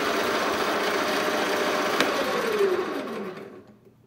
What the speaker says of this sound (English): First time I've used that tool on this small mini lathe.